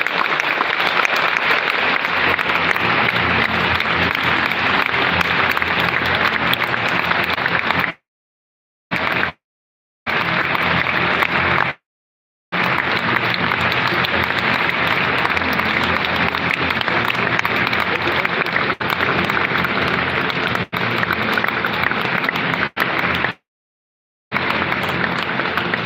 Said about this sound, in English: I'd like to ask you to step forward with a round of applause again.